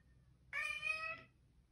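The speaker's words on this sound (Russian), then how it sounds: "Сейчас Юля скачала переводчик с кошачьего и пытается поговорить с Бимочкой." A single synthetic cat meow played from a cat translator phone app, clear and fairly close, lasting under a second with quiet room noise around it.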